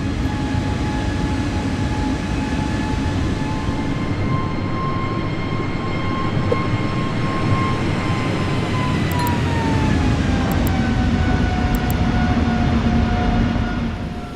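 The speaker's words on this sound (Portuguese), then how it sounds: "o piloto ajustou a potência para o nível de decolagem e às 19 horas e 2 minutos, o avião decolou do aeroporto de Barcelona" An airliner takes off from Barcelona airport, heard as a loud, continuous engine roar with steady whining tones that slowly drift in pitch as the jet accelerates, sustained throughout with no talk.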